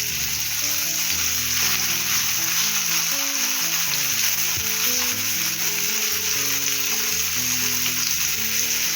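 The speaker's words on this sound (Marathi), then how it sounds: "हे सगळ्या मच्छीला फ्राय करून घेणार आहे." Pomfret and Bombay duck fish fry on a large tawa, a dense, even, close sizzle and crackle of hot oil that continues throughout without any voices.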